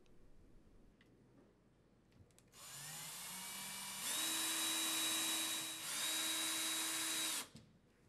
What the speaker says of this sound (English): Fasten the dispenser in place using 4 Type A number 10 by 1 inch screws.